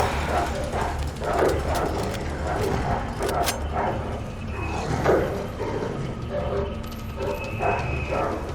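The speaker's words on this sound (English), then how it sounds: "Sounds like there's a lot of dogs out here." Several dogs bark and yelp in the Resident Evil 2 Remake video game, scattered barks over an ambient game background with mechanical noises, fairly close and repeated irregularly.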